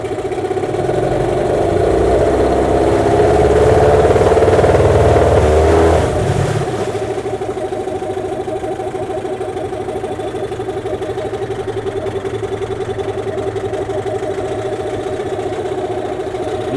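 A Hangkai outboard motor runs on break-in mixture, loud and steady at first, then dropping after about six seconds to a lower, slightly uneven idle that continues to the end.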